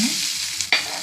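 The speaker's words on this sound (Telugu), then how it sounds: "పచ్చిమిర్చి, వెల్లుల్లి వేసుకొని వేయించుకోవాలి." Onion, green chili and garlic frying in a pan, a steady close sizzle with a brief stirring scrape near the end, no voices.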